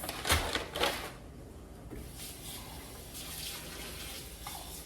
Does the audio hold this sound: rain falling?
no